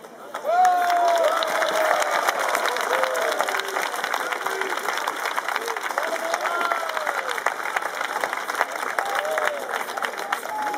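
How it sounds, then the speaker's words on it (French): A crowd applauds knights at a medieval tournament at a ramparts festival in Dinan: steady, moderately distant clapping throughout, with an announcer's voice carrying over it. "à applaudir chaque chevalier à la vue de la bravoure qu'il aura démontrée"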